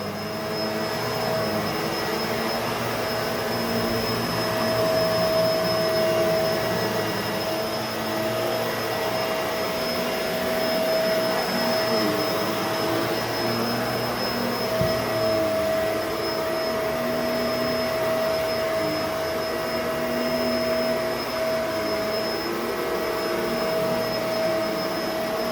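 A Bissell MultiClean Allergen Lift-Off Pet vacuum cleaner runs continuously, a loud, close, steady motor whine and airflow rush with slight changes in load and no speech over it.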